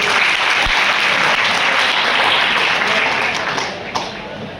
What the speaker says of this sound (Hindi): आप लोग अपने लिए एक बार जोरदार तालियां बजाएं